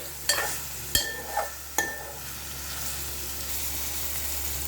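Prawns fry in a pan, a steady close sizzle broken at the start by a few sharp clinks of a utensil stirring against the metal, then settling into even crackling.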